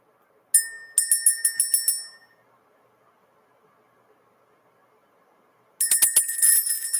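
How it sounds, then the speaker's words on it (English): A small bell rings in a quick series of bright strikes, goes silent for several seconds, then another burst of rapid rings begins, loud and close with shimmering tails. "ring the bell, clear the energy"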